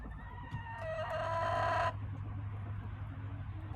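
Chickens cluck faintly in a backyard winter coop while a rooster crows loudly once, a sustained call lasting over a second, over a low steady hum.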